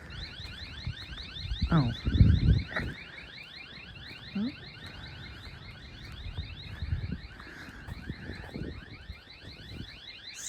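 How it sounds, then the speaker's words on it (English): A security camera alarm beside a muddy outdoor area sounds a steady, rapidly warbling electronic tone for the whole stretch, moderately distant, with footsteps and a brief voice in the foreground. "little cameras going off for security"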